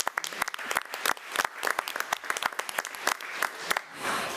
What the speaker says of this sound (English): Let's give Tanner a round of applause.